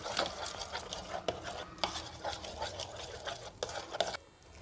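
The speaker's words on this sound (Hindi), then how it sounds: "और हम इसको अच्छे तरीके से मिक्स कर लेंगे।" Garlic and milk mixed together in a bowl with a spoon, a quick rhythmic run of scraping and clinking strokes that goes on for several seconds before stopping.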